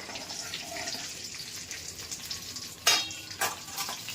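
Carrots drop into hot oil with cumin and fry, a soft steady sizzle broken by two sharp bursts of spitting as pieces hit the pan, fairly quiet and close, no talking.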